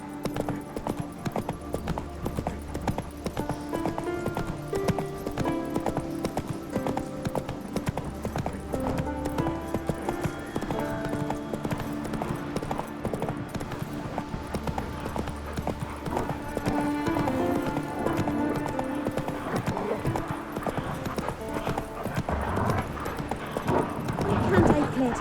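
Horse hooves clip-clop at a steady gallop in The Witcher 3 on Skellige, continuous across the whole stretch beneath game music and occasional spoken dialogue.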